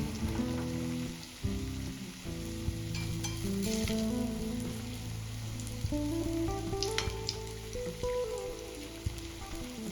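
Potato bhaji fritters deep-frying in hot oil over a medium flame, giving a continuous dense sizzle and crackle with scattered pops, close and steady throughout with no talking.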